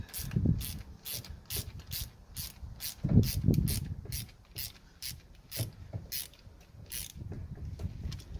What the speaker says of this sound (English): can use a screwdriver to tighten these up.